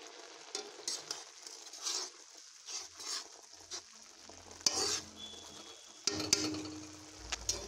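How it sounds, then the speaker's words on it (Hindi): Halwa is stirred in a pan on low heat, producing soft intermittent scraping strokes and faint sizzling, quiet and close, with a few clinks of the spoon against the pan. "दिन भर चलाते रहना है ताकि वह जल मत जा करके एकदम लो तवा पर पकाना है"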